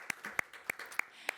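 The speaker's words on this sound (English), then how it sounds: "So big round of applause for these two legends" Audience applause for two panel guests at a live interview event, heard as a short burst of sharp claps with distinct hand strikes over a steady patter, moderately close.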